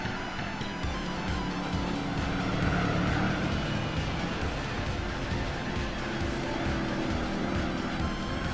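A Plymouth Superbird engine in Gran Turismo 4 drones steadily and loudly through a long gear at high revs, a continuous unbroken roar with no talk over it.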